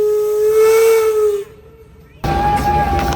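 Steam engine whistle sounding loud and steady at a 4th of July parade, a sustained tone that cuts off, leaving quieter outdoor noise, then a second higher whistle blast begins.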